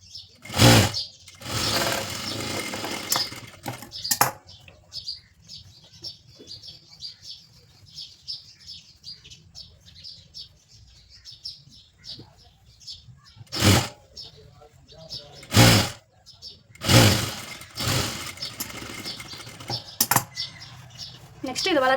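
An electric sewing machine stitches cloth in short, separate bursts of loud whirring, with quieter gaps between them and someone talking throughout.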